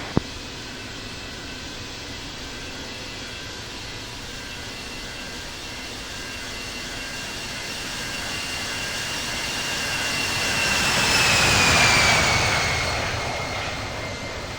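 Jet airliner taking off at Sydney Airport in the Infinite Flight simulator game: a steady engine roar builds through the clip, swelling to a loud peak as the aircraft passes near, then easing slightly, with no talk.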